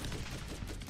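A turret in the Borderlands shooter game opens fire, a dense, unbroken rattle of rapid shots that fills the whole second at steady loudness.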